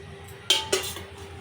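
A kadai pan is set down on a kitchen stove, two quick metallic clanks close together, ringing briefly over a quiet room.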